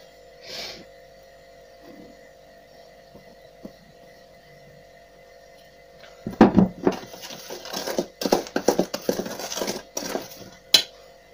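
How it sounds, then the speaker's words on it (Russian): Flour being mixed into a honey and sour cream cookie dough in a bowl, heard as a quiet opening followed by close, irregular scraping, knocking and clattering against the bowl. "И теперь всыпаем муку и замешиваем тесто."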